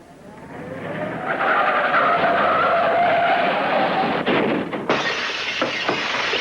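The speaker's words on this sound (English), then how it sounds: "I think I hear a car coming." A car approaches and its tires skid in a long rising screech, loud and close, ending in a few sharp knocks and a bright hiss.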